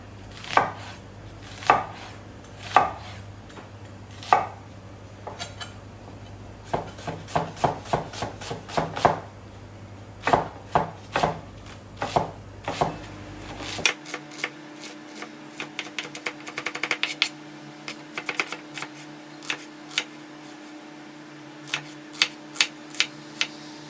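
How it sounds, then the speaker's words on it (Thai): A knife chops a large onion into small pieces on a cutting board, rapid rhythmic thwacks in bursts with short pauses, close and crisp, a faint hum underneath early on. "หั่นหัวหอมนะคะ"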